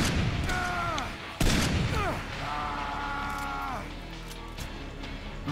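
Sniper rifle shots in the video game Far Cry Instincts land as two or three sharp booming reports with a ringing tail. A sliding mechanical whine carries through the middle, and a quiet voice is heard in places.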